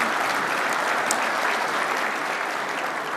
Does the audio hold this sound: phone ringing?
no